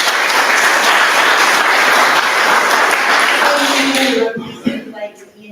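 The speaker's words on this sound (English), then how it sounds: "So another wee round of applause." A loud, dense round of audience applause at a choir event fills the hall steadily for about four seconds, then breaks off into a few scattered claps and fades.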